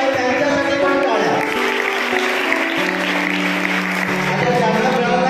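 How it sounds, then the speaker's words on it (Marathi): At a high school elocution competition, the audience claps for participants who did not win: continuous, fairly even applause carrying through the full span, mixed with an ongoing tonal layer that sounds like background music or voices. "ज्यांना मिळालं नाही त्यांच्यासाठी पण टाळ्या."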